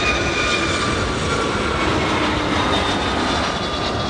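A Boeing 757 with Rolls-Royce RB211 engines roars past at LAX, a loud, continuous broadband jet rumble with a faint high whine, close and steady throughout with no talking.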